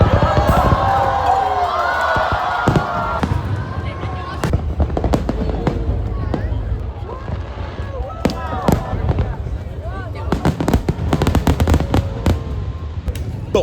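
Fireworks at the international fireworks competition in Da Nang: rapid crackling bursts and sharp bangs in dense clusters, with whistling rockets early on, heard over crowd noise and voices.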